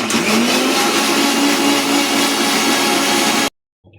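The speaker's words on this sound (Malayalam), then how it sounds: "അത് നമുക്കൊരു മിക്സിയുടെ ജാറിൽ ഇട്ട് കൊടുക്കാം" A mixer grinder grinds roasted coconut in its jar for a chicken curry. It gives a loud, continuous high whirring that runs steadily for several seconds and then stops suddenly.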